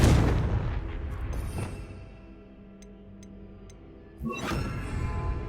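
A Confringo spell blast in the Hogwarts Legacy video game: a heavy booming burst at the start that fades into a low rumble, a few faint ticks, then a second loud impact near the end.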